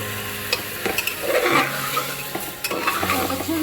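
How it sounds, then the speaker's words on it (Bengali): Ingredients for tomato soup are lightly sautéed in butter in a pan, a steady sizzle with scraping stir strokes and occasional utensil clicks close up. "যেহেতু আমি আরও একটু বাটার দেবো, তাই হালকা সতে হবে।"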